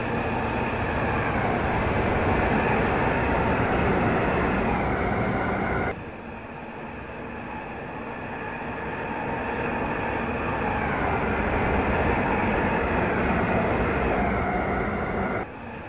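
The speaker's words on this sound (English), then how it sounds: "There's another train approaching, a freight train there." A freight train in the Train Simulator Classic game, on Dutch rails, rumbles continuously and loudly, with a dense, steady roar that shifts slightly partway through.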